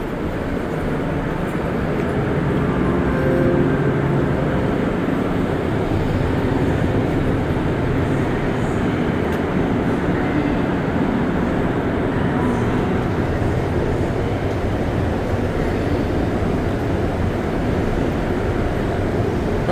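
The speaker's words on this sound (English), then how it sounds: "might as well, go for an MR73 Metro ride here." Montreal Metro MR73 train in motion, heard from inside the front cab car: a steady, loud rumbling roar of wheels and motors that stays even throughout, with no voices.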